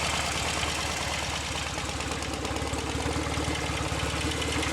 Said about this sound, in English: A bit of noise from the oil pump and camshaft area, but I've heard those noises before on several other Royal Enfield twins.